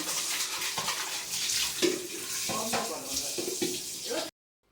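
A tap runs into a sink as mugs that held water are rinsed and washed. Water splashes and gushes close by in a steady stream with clinks and shifting bursts, then stops abruptly at the end; a voice may be faintly present.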